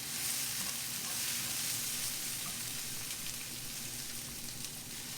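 Fresh Gulf shrimp sizzle steadily in olive oil in a pan, a dense, even frying hiss that holds at the same loudness throughout with no talking.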